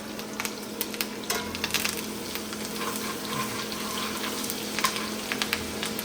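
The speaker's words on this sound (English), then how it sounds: "now we're gonna throw rosemary and thyme in. Fry that thyme off." Sprigs of rosemary and thyme frying in a pan alongside lamb chops, a steady close sizzle and crackle with scattered pops and light stirring, no voices.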